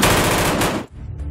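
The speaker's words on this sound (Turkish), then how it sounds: "Burada gabardağın etekleri kurşun sesleriyle yankılanıyor." Automatic gunfire at the foothills of Gabar mountain: a dense, loud burst of rapid shots with echo, then it cuts off into quieter rumble.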